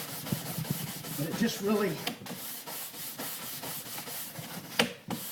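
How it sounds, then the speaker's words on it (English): Soft rhythmic rubbing strokes as wax is polished on a ski base, repeated scrubbing passes heard close and quietly, with someone talking briefly over them. "what you're doing is you're polishing wax"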